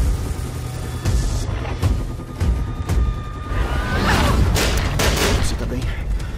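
Bursts of gunfire in an action film trailer, rapid shots and booms layered with a loud music bed, building to a dense stretch of fire in the second half.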